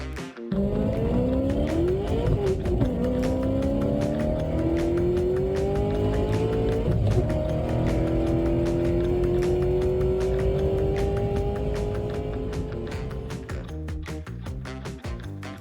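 Model American muscle cars race around a track with a butterfly section, their motors producing a loud, continuous whine that climbs steadily in pitch, with clicks and rattles as they pass.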